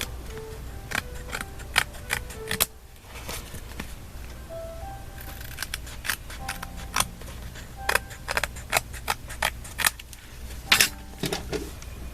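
Scissors cut the sides of a paper gift calendar in a run of sharp, close snips that come in irregular bursts with brief pauses between them.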